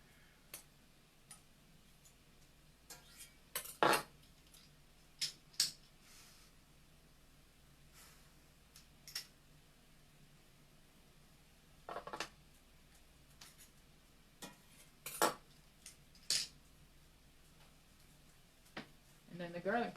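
A metal garlic press and utensils clink and tap while garlic is rearranged and pressed, giving sparse sharp clicks scattered over a quiet background.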